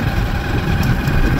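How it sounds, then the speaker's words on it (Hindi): A Hero Splendor motorcycle engine runs steadily while the bike is ridden along a rural road past green paddy fields. It gives a continuous low rumble with even vibration, loud and close, with no voices. "इस पर स्प्लेंडर बाइक से हम लोग जा रहे हैं"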